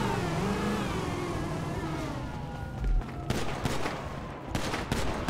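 Rapid pistol shots crack in a GTA roleplay street fight, several sharp bursts in the latter half over engine hum and background game noise.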